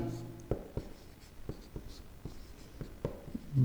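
Pen scratching on paper in short, light strokes at a steady rhythm, close and faint, during a Class 10 chemistry lesson on chemical reactions.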